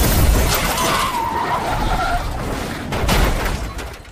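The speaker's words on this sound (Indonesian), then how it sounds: "datang mobil lain dengan sengaja menabrak mobil baik" A car deliberately rams into another car in a crime action film scene from The Roundup: No Way Out, with a loud crunching impact, tire skid and a second heavy crash near the end, no speech.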